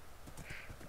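Several quick, close hoof clip-clops from a horse in the Minecraft video game, crisp and loud.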